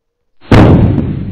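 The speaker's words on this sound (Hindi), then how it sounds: "एक बड़ा धमाका हुआ।" A mortar shell explodes in a single loud, sharp boom that bursts suddenly, then rolls off into a rumbling decay.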